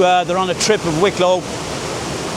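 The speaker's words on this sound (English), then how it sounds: "the waterfall behind me is in full flow" A waterfall in Wicklow in full flow after heavy rain gives a steady, broad rushing roar nearby, heard under someone talking and then continuing on its own.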